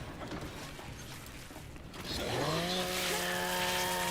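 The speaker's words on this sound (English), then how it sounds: "I heard a chainsaw go off." A chainsaw in a video game starts up and revs, rising into a sustained buzzing whine after a quieter stretch of game ambience, moderately loud and steady.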